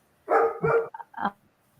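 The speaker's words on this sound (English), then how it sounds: "dog barking is okay because we do things live here" A dog barks about three times in quick succession, close and clear, with a short yip between the barks and quiet before and after.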